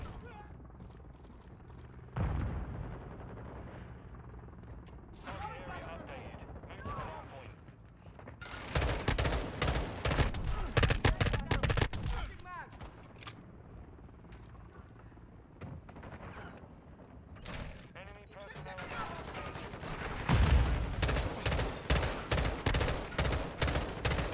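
M16 rifle gunfire in the video game Modern Warfare 2, loud rapid bursts of shots repeating across the clip in several volleys, with game sounds and a voice talking over them.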